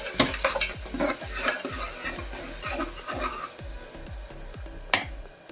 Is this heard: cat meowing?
no